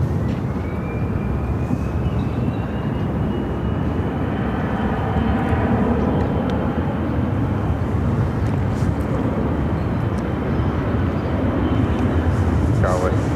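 An American Airlines airliner takes off from runway 25 right at Phoenix airport, a steady broad engine roar filling the whole stretch, with a rising whine early on and air-traffic radio talk faintly beneath.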